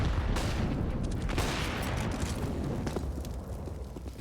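Grenade blasts and gunfire from a professional Counter-Strike match on the Train map, a dense, loud wash of explosions and shots rolling continuously throughout with no pause.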